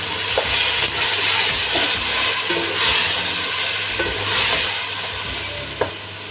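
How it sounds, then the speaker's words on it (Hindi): Vegetable pulao rice with ginger-garlic paste and a splash of water frying in a pan, with a steady sizzle and hiss under repeated scraping stir strokes and light clinks, close and continuous, with no talking. "हल्का सा पानी डाल के भूनेंगे।"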